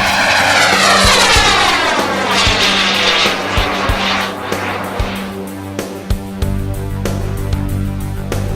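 A large radio-controlled model jet powered by two OS-91 VFDR engines roars overhead at an RC jet meet, its loud whine sweeping past and fading, then settling into a lower engine hum with sharp clicks and knocks.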